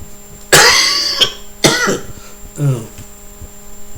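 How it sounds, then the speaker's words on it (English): Two harsh coughs close together, followed by a shorter throat-clearing sound, each loud and near against a quiet background. "Sorry about the cough."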